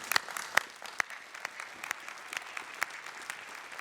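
Audience applause at a college convocation ceremony, a steady patter of many hands clapping with scattered sharper claps standing out, moderately loud and continuous.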